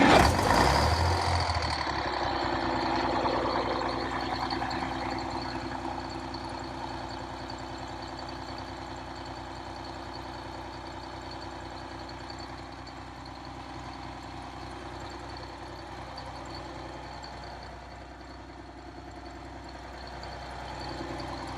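A Detroit 6V92 diesel in an MC9 coach, running after a cold start, idles steadily with a deep rumbling drone and a rougher, louder burst at the start, then settles into an even throb with no talk.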